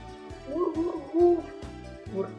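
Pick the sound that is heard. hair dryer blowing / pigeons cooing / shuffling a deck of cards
pigeons cooing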